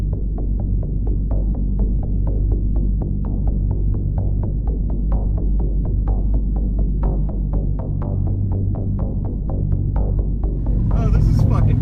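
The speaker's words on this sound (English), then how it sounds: "I've never driven a DeLorean in my life." A DeLorean car engine runs while driving, heard inside the cabin as a loud, constant low rumble with a rapid rhythmic throb, and voices talking over it.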